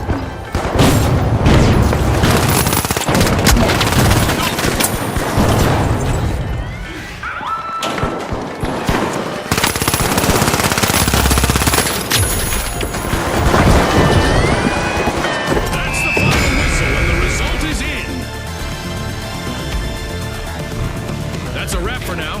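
Frag grenade blasts and gunfire in The Finals, a virtual combat game: loud, dense booms and crashes roll on continuously with rapid shots layered through, and a voice speaks over the fray.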